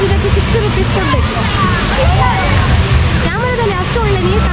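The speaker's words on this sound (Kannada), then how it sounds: "ಕರಾವಳಿ ಉತ್ಸವದಲ್ಲಿ ಫಾಲ್ಸ್ ನೋಡಿ." Steady rushing and splashing of an artificial waterfall at the Karavali festival in Mangalore at night, continuous and close, with people talking over it throughout.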